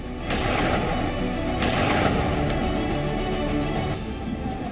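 Three sharp gunshots ring out a second or so apart aboard a moving passenger train, loud and echoing, over a dense rumbling background.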